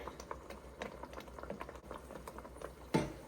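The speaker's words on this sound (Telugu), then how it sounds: "ఇంక ఇప్పుడు ఇది ఉడకనిద్దామండి ఇలాగా ఆయిల్ అంతా సపరేట్ అయ్యే వరకు బాగా ఉడకనిద్దాము" A capsicum masala curry simmers in a pan, with soft, thick bubbling and popping close by and at a low level. One sharper pop comes near the end.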